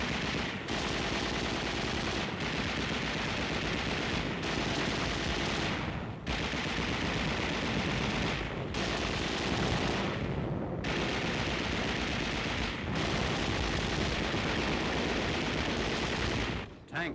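Sustained heavy automatic gunfire from a WWII newsreel of the Okinawa battle on the Shuri front, with dense, continuous bursts of machine gun fire and a few short breaks, loud and close throughout.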